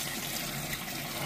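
Water draining out of an old Ford bumpside pickup into a pan that is overflowing, a steady close-up splashing gush with no talk over it.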